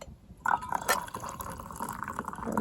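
Coffee trickles unevenly from a small titanium French press at a chilly October campsite, a soft, quiet liquid pour with faint splashes and drips that briefly starts and stops before it fills the cup.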